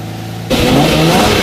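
A car with a 6.5-liter naturally aspirated V12 engine, rated at 661 brake horsepower, is heard as a quiet hum that suddenly bursts into a loud, sustained acceleration roar with rising engine tones.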